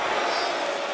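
Wrestling crowd chanting for Kris Statlander inside the Prudential Center in Newark during a Full Gear 2024 match, a dense, steady roar of massed voices filling the arena throughout the short moment.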